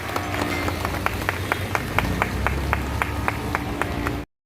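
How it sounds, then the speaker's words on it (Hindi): Rhythmic, even clapping from an audience at an Ambedkar Jayanti welcome ceremony in Delhi, with steady claps over a murmuring background that continue for about four seconds before cutting off abruptly. "सर तालियां तेज बजा दो प्लीज।"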